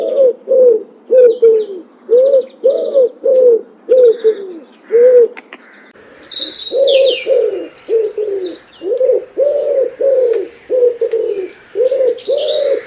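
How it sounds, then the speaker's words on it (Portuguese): Common wood pigeon (Columba palumbus) cooing loudly and close by in steady rhythmic phrases of soft hooting notes, with a brief pause midway and faint chirps from other birds higher above. "O pombo turcaz."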